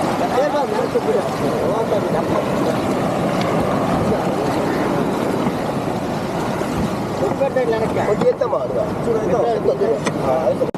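A fishing boat's engine, weighing about 100 to 110 kilograms, drones loudly and steadily out at sea while someone talks over the noise.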